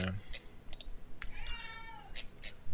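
A house cat gives a clear, drawn-out meow at close range, with sharp keyboard clicks and mouse taps around it in a quiet room.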